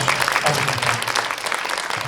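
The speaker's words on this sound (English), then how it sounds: "Everybody, big round of applause for Arch." Convention crowd at a furry gathering gives a steady, close round of clapping that stays loud throughout, with faint voices underneath.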